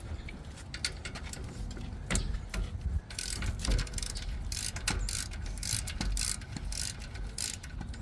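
Ratchet wrench working 10mm rear brake caliper bolts on a fourth-generation Ram 1500 pickup, a steady run of close, loud clicking and metallic ratcheting strokes with no talking.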